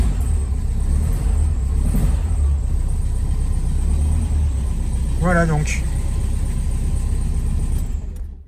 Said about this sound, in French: Moteur qui tourne doux, qui tourne bien.